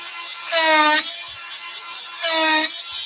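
A small power carver cuts decorative patterns into wood on a woodturning, its motor whine rising in two short, loud bursts over a steady low hum.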